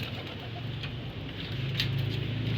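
Pigeons cooing in a steady low, soft rhythm, fairly close, with a continuous murmur of other birds and no voices.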